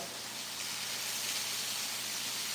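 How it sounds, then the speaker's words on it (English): Steady, dense sizzling hiss of bacon frying in a pan, constant and fairly close, with no talking. "Bacon sizzling is great."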